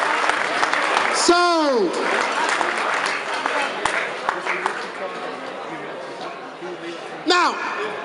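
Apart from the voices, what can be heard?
audience applause at charity auction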